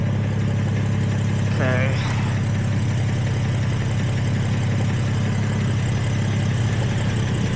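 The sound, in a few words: BMW M3 exhaust idling with resonator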